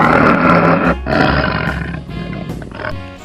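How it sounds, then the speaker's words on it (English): A tiger roars loudly and close by, with a deep, rough, drawn-out growl that breaks briefly, then continues in grumbling bursts. "And wow, tiger,"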